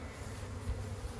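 Honeybees buzzing around an open hive from a nuc being split, a low steady drone of many wings at close range, quiet and unbroken, with no voices.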